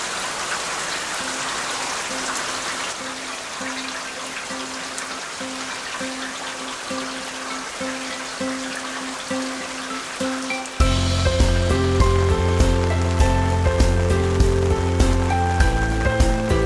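Heavy rain pours down on a lawn in a steady hiss for the whole stretch, and partway through a louder engine-like hum joins beneath it.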